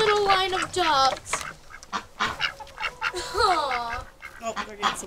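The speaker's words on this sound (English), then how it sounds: "Look at their cute little line of ducks." Several ducks on a hobby farm quack loudly and repeatedly close by, calls overlapping in quick bursts, with a person talking between them.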